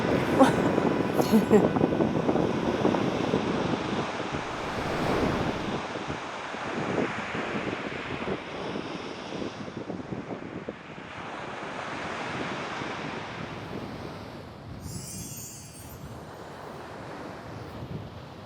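Ocean waves wash steadily at a seaside, a continuous broad roar buffeted by wind noise on the microphone, with talk over it.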